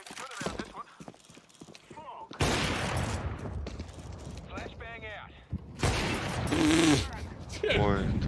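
Loud bursts of UMP submachine gunfire from Counter-Strike 2 rattle in dense volleys between stretches of excited talking, the shots coming in two heavy clusters.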